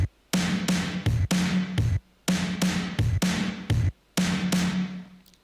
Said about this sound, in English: So the kick and snare sound like this